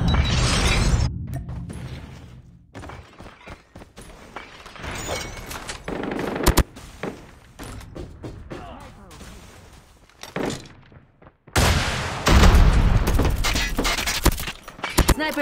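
AK117 rifle gunfire in Call of Duty Mobile, loud bursts of rapid shots broken by pauses and mechanical clicks, with radio-style in-game voice callouts in between.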